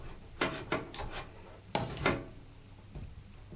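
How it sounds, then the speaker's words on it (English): A spoon or fork stirring rice and peas in a cooking pot, giving a few scraping, rubbing strokes of metal against the pan in a loose rhythm, fairly quiet and close with no talking. "Stir the rice several times"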